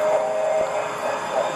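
A model train runs on an Australian model railway layout, a steady continuous rumble and hum with a faint high whine throughout and no clear talk.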